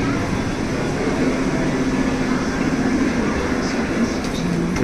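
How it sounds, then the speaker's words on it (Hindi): London Underground train pulling into a station, a loud continuous rumble and metallic hum from the tube, steady throughout with a faint voice underneath. "हमारी ट्रेन आ चुकी है।"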